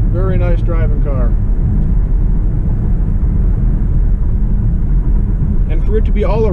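A 2010 V6 Chevrolet Camaro with about 110,000 miles cruising on the road, its steady engine and road rumble droning loud and continuous, with someone talking briefly at the start and end.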